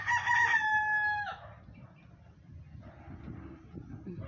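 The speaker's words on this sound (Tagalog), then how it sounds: "may manok po. Umaway si manok." A rooster crows loudly and close by in a Davao yard, one long harmonic call lasting about a second, then fading into quiet outdoor ambience.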